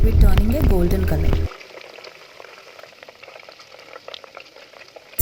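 Milk skin simmers down into ghee in a pan, a steady faint sizzling and fine bubbling crackle that continues alone after a brief loud burst of voice or music at the start.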